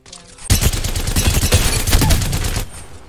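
Havoc energy rifle in the Apex Legends video game fires a long sustained automatic burst of about two seconds, loud and close, shots packed in a rapid stuttering rhythm before cutting off.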